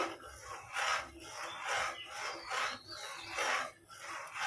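A spoon scrapes and rubs in a regular back-and-forth rhythm while stirring a milk and cornflour mixture in a pot for homemade ice cream, close up and fairly soft.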